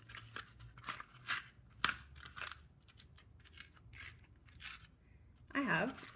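Scissors cut through cardboard for puppet-making, giving a series of crisp, close snips spaced irregularly over several seconds, with a brief voice near the end.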